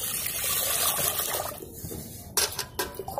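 Water poured from a lota into a cooking pot on a stove, a steady liquid rush that thins out, followed by a few sharp clinks of metal utensils.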